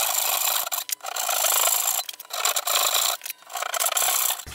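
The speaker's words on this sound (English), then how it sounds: "I'm going to use a tenon saw to come and cut them up" A tenon saw cuts across wood for a dog walking rack in rhythmic, raspy strokes, three long bursts with short pauses between them, close and loud with no talking.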